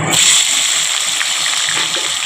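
Potatoes dropped into hot mustard oil set off a loud, steady hiss and sizzle of frying that carries on without a break, close up, with no talk.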